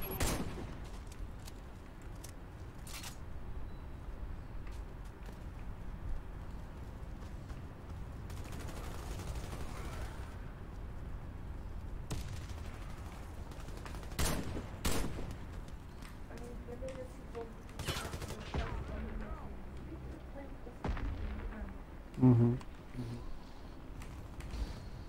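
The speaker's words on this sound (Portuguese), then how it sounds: "O último adversário tá tomando tiro na lata aqui." Gunfire from the online shooter Warface on Xbox One crackles as scattered single shots and short bursts, fairly quiet and distant, with a couple of sharper close reports near fifteen and twenty-two seconds.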